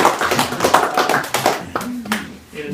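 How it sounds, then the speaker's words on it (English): Audience applause at a Browns Canyon National Monument proposal event, dense clapping over the first half and thinning toward the end, with a voice speaking over it partway through. "let's give her a big round of applause"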